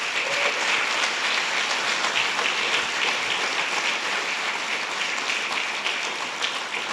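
An audience at a public talk on the Watergate scandal gives sustained applause to two guests, a dense, even roar of many hands clapping that holds steady throughout.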